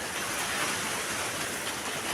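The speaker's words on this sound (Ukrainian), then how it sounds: "Дощ, як чуєте, по теплиці лупить" Heavy rain drums steadily on a greenhouse roof, a dense, even hiss that holds at the same level throughout with no pauses.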